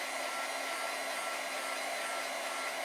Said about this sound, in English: So I'm going to quickly help that dry just with my heat tool